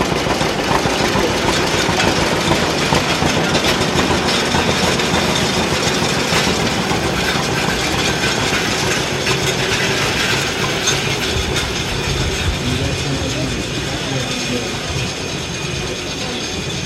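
A farm tractor runs steadily, pulling a restored but working New Idea hay rake at a harvest festival, with a continuous mechanical drone and a clattering ratchet-like rattle that stays loud and even throughout.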